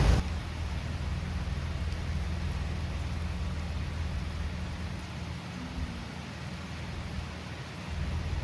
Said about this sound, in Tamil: திடீர்னு மழை பெய்யுது